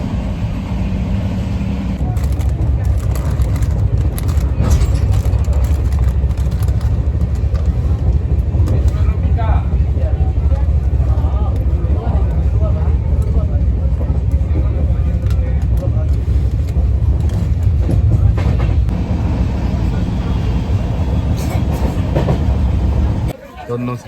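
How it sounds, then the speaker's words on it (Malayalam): Mithila Express sleeper-class coach speeding at around 108 km/h, a loud steady rumble and rattle of wheels on rails filling the whole stretch, with faint voices in the carriage beneath the roar. "ട്രെയിൻ ഇപ്പോൾ നല്ല സ്പീഡ് പോകുന്നുണ്ട്."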